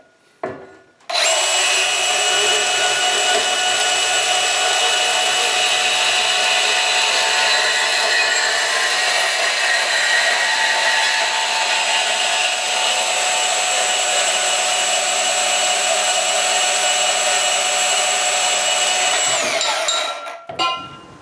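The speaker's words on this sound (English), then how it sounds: "this is some fairly thick steel tubing, and we're going to go ahead and slice right through it" A DEWALT DCS374 20V brushless battery deep-cut band saw slices through thick steel tubing, a loud steady high-pitched whine with a continuous metallic screech that runs for about twenty seconds before spinning down.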